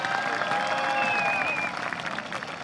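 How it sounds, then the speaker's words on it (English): An audience at a high school graduation ceremony applauds for teachers, a moderate, steady patter of clapping heard from a distance with a faint whistle over it. "Let's give them a round of applause."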